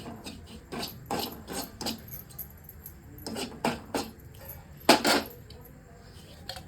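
Semolina (rava) roasting in ghee in a pan for fried modak, heard as repeated scraping and stirring strokes of a spoon against the pan in uneven bursts, close and moderately quiet.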